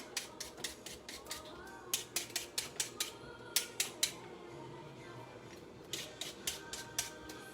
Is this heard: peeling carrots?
yes